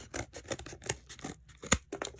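Scissors snip through cardboard to cut out a circle for a cross-stitch finish, with rapid, irregular close-up crunching cuts and no talking.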